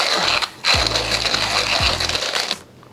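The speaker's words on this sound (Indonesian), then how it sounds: "hari ini kita pakai grindernya Mazer dulu guys. Giling dulu." A Mazzer coffee grinder grinds coffee beans in loud, continuous bursts, a motor hum with gritty crunching that pauses briefly twice before stopping, close and alone, with no talk.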